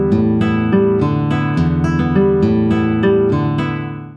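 Guitar playing a full measure of a rumba rhythm, a bass line moving under repeated block chords with rest strokes, steady and close with no talking.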